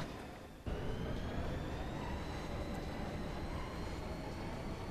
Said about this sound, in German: Der Zug von Dimmer nach Garden Ost fährt in Kürze ab.